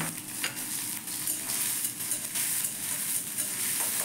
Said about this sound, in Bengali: এবার ওই তেলে দেব 1/2 চামচ জিরে, আর 1 ইঞ্চি মতো আদা কুচি এবং 3টে কাঁচা লঙ্কা কুচি করে দিয়ে দিলাম।